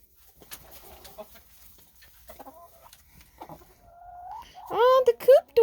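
Chickens in their coop during snowy, cold weather give soft scattered clucks, then louder rising squawks near the end, close by, with a person talking quietly among them.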